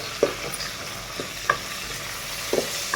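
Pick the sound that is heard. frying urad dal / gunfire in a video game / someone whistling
frying urad dal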